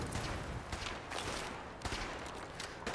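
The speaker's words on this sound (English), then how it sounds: "Who's shooting all these lasers?" Laser weapons fire in a Fallout 4 fight, heard as rapid bursts of crackling zaps in uneven clusters that keep going throughout at moderate volume, with no talking.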